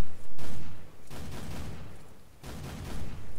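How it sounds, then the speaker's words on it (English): Shotgun blasts in Fallout: New Vegas, several loud booming shots spread across a few seconds, each with a broad burst and a rumbling tail, without any talk. "Let's get our shotgun out."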